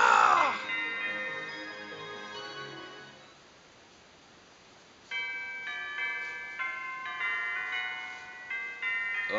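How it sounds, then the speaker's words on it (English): A wish bell rings in the PokePark 2 video game: bright, sustained chime tones that fade, then a fresh series of bell notes strikes up over game music. "Oh, the bell's ringing."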